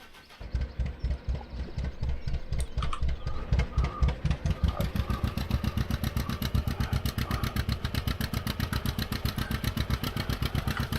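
A John Deere tractor engine runs steadily in a rapid, even chugging beat, loud and close, holding a constant idle-like pace throughout with no talk.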